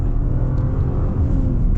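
A 2026 Genesis G80 Black sedan accelerates with a loud, steady engine drone and low rumble heard from inside the cabin, the tone holding fairly even through a brief stretch without talk.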